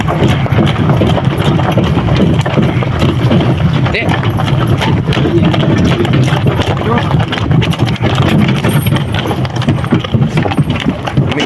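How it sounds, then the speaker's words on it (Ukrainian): A harnessed stallion pulls a cart carrying guests, hooves clip-clopping steadily and fairly close under continuous wind and rolling noise, with people talking over it throughout. "дав нам на тест-драйв трохи коня"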